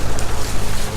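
Sailboat motoring under engine near Tenerife, a loud continuous drone mixed with heavy wind buffeting and water noise.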